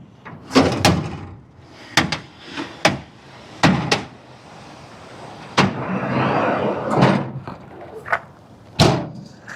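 A pull-out loading ramp is slid from under the rear of a 2014 Hino 268 26ft box truck, giving a run of loud metallic bangs, clunks and scraping slides, spaced irregularly and close by.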